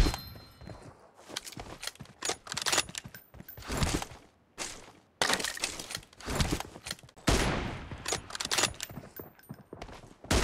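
In PUBG Mobile, M24 sniper rifle gunfire and other loud gunshots crack close by in rapid, irregular bursts separated by short pauses.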